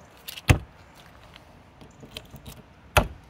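A key turns in the lock of an outside storage locker on an Auto-Trail Mohawk motorhome, giving two sharp metallic clunks about two and a half seconds apart, with faint small rattles of keys and latch in between.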